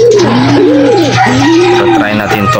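Racing pigeon cooing close by in a loft, a steady run of throaty, rolling coos that rise and fall over continuous low background hum, with no other voices.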